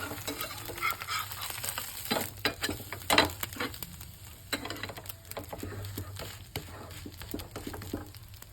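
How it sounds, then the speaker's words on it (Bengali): Egg roll bread fries in a pan, a steady close sizzle broken by irregular scraping and stirring clatter from a utensil, with no talk. "এবার একটু ভালো করে একটু ভেজে নেবো, পেটে পুট করে সুন্দর করে ভেজে নিই।"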